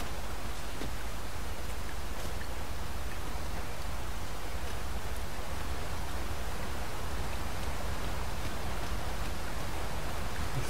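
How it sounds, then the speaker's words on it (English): Steady rain falling in the Dragon's Dogma 2 video game, a soft, even hiss of drops with no breaks, faint and constant throughout with no voices over it. "Rain can be treacherous."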